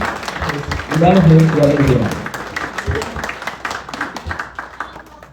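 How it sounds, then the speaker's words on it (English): An audience at a gathering of Ghanaians in South Korea claps for their president, a steady patter of many hands from a crowd with voices mixed in. "But I want us to also clap for our president, Mario Pastor."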